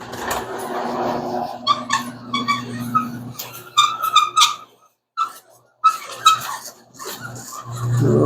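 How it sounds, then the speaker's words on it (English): A dog in a garage workshop during a 1975 Plymouth Duster build gives a run of short yips, whimpers and barks, close by, in uneven bursts with brief pauses, over a low steady hum. "I got the dog out here with me, the star of the show."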